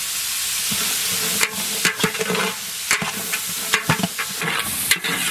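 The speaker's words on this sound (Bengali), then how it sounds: "গাজর, ক্যাপসিকাম, বিনস ভাজা হয়ে গেছে" Carrots, capsicum and beans fry in a pan, a steady hiss broken by repeated scraping stir strokes at an uneven rhythm, close and fairly loud with no voices.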